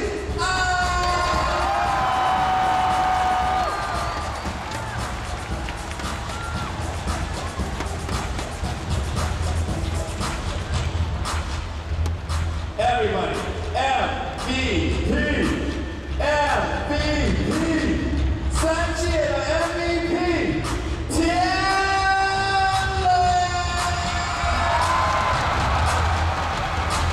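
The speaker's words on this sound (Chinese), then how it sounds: "我要听到你们的尖叫声" A large arena crowd at a Taiwan basketball exhibition event screams and cheers loudly and continuously, with an announcer's amplified voice and music over the sustained roar.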